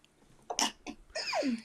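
A single close sneeze, preceded by a couple of short sharp intakes of breath, then a quick burst.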